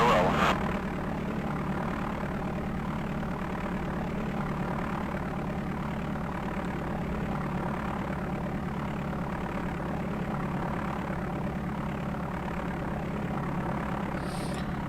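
Airliner engines roar steadily through a takeoff roll in the DOS game Flight Simulator 5.1, a constant low synthetic drone with a faint tonal edge that holds unchanged throughout.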